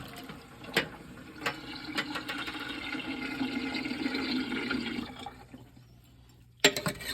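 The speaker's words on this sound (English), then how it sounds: "Now what I'm gonna do, I'm gonna drain this water." Water drains from a humidifier during filter cleaning, a close steady splashing and trickling flow that runs for several seconds with a few clunks, then fades to a faint drip before a sharp knock.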